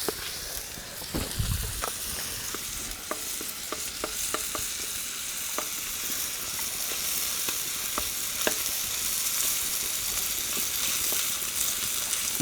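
Shrimp paste fries in a little oil, a steady crackling sizzle with scattered sharp pops and occasional scrapes of stirring, close up and continuous, with no voices.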